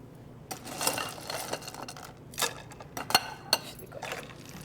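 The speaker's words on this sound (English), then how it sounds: "Add some ice cubes." Ice cubes clink and rattle into a glass of drink made with vanilla ice cream, a few sharp irregular chinks and clatters, close and fairly quiet, with no talking.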